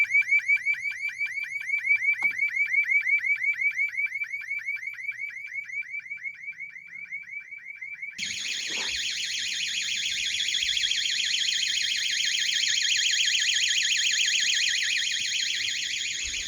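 A DSC NEO alarm system siren sounds loud and close, first as a rapid, steady warbling chirp for about eight seconds, then switching abruptly to a harsher, continuous high-pitched wail that holds to the end.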